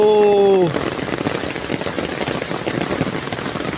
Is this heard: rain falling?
yes